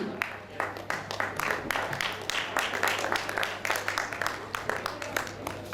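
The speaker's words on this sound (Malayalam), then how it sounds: "കൈയടിക്കാൻ ഇവർക്ക് സന്തോഷമായിക്കോട്ടെ" Audience applause at a community charity event, steady close clapping from many hands that keeps up throughout, with some voices mixed in.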